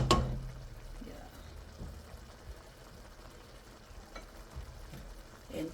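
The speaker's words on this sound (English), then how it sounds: "And cover, let it simmer, soak up all the spices" Chickpeas with spices bubbling in a pan, a soft steady simmering sizzle with a few clinks and stirring knocks at the start and end.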